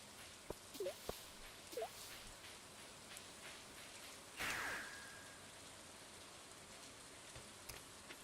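Soft, steady rain falls in the farming game Stardew Valley, a quiet wash of noise under a few small clicks and one brief louder chime partway through.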